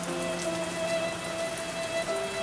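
Heavy rain falls steadily outdoors at an early-morning cooking spot, a dense, continuous hiss of drops drumming on nearby surfaces, loud and unbroken, with faint tonal hums running underneath.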